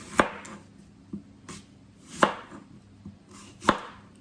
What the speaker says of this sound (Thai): ก่อนอื่นพลาก็จะมาหั่นนะคะ หั่น แอปเปิลนะคะ